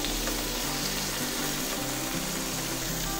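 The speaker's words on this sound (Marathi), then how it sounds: "त्यासाठी आपण जास्तीत जास्त म्हणजे 15 मिनिटं तरी मच्छी फ्राय करायला लागतोच लागतो." Indian mackerel (bangda) coated in fish masala and rice flour fries over a low flame in a pan, giving a steady, dense, close sizzle with no break.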